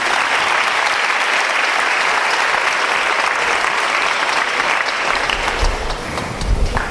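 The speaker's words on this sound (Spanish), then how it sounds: "¿Por qué no le da un aplauso a la palabra de Dios?" Congregation applauding during a sermon, a sustained wash of many clapping hands, fairly loud and steady, thinning slightly near the end with a few low thumps.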